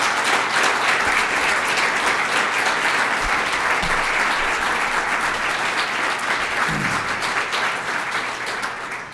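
An audience at a school district presentation applauds culinary arts students, sustained dense clapping from a large crowd that holds steady and eases off slightly at the end.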